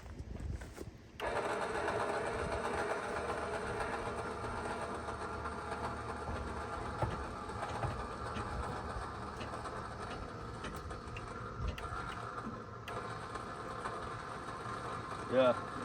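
A trailer jack lowers under load while a weight distribution hitch takes up tension, giving a steady grinding mechanical drone with rattling texture that runs continuously at moderate, close level.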